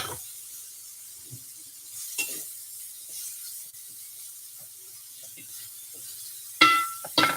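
Bacon and garlic cook in a pan for sautéed dino kale, a faint steady hiss and sizzle with a few soft utensil scrapes and clinks against the pan, fairly close and without talk.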